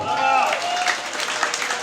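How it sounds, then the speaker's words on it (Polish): An audience at a jubilee swimming competition event applauds congratulations for a volleyball championship team, a short burst of crowd clapping beneath an announcer's amplified voice. "Wielkie brawa!"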